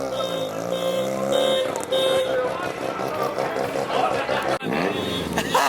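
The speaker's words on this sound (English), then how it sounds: "I love rotary motors." A car with a rotary engine runs close by with a buzzy, harmonic-rich tone and a few short revs, while people talk excitedly over it.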